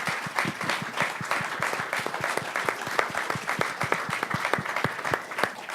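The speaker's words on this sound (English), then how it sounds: "Please join me in giving the panel a round of applause." An audience claps for a panel of venture capitalists and investors at a tech talk event, many distinct hand claps in a brisk, even patter, moderately loud and sustained throughout without talk over it.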